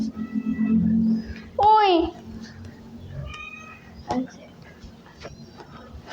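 A cat lets out one sharp, fierce meow that rises and bends in pitch, set among quiet room noise and occasional children's voices.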